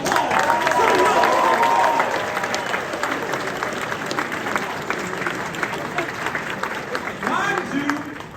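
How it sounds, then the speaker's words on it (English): An audience at a keynote gathering claps, loud at first and then tapering off, with some voices and a few cheers mixed in. "Let's give them some round of applause."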